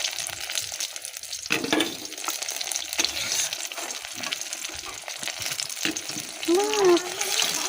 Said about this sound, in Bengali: বেগুনগুলো সব ভাজা হয়ে গেছে, কমপ্লিট হয়ে গেছে।